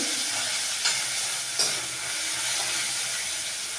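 Crushed turmeric and coriander sautéing in oil in a pan over a low flame, giving a steady, dense sizzle broken by a couple of soft scraping accents.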